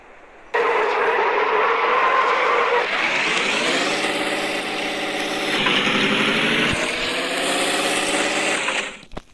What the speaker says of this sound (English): Yeah, literally this same engine sound.